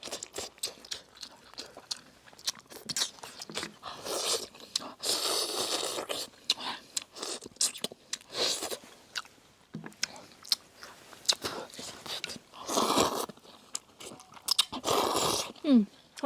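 Someone eats braised pork ribs over Jiangxi rice noodles up close, with loud bursts of chewing, biting and slurping that come in irregular waves, separated by short quiet gaps.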